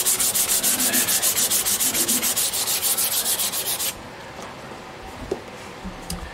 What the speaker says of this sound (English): you can see what I do there with the sanding